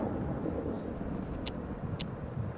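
A thunderstorm rumbles in the game Thief Simulator 2, a steady low roar of rain and distant thunder with two brief sharp crackles, faint and without speech.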